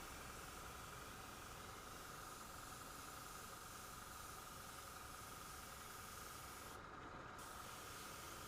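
An airbrush sprays paint to salt-weather a model train wagon, giving a steady, even hiss that runs unbroken and close for the whole stretch, with no talking.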